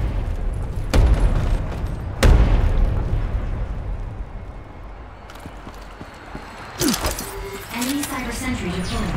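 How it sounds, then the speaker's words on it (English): Arm launcher blasts in the Ghost in the Shell: Stand Alone Complex shooter during a downtown Dejima demolition match, with two heavy booming explosions early and a further blast later amid game noise. "The enemy is using an arm launcher"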